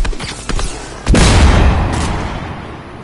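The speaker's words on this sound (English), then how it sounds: "No, they're shooting at you guys?" Gunfire in the Fortnite video game, a couple of sharp shots followed by a loud booming blast that rolls off and fades over a few seconds.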